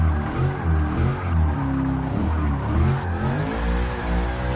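A Lexus IS F in a racing game braking hard into a corner, its engine droning loud and steady with shifting revs and a continuous tire-scrub roar throughout, no voices.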